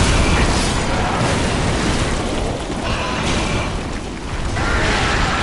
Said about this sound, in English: I'm gonna dodge so I don't get destroyed by his explosion.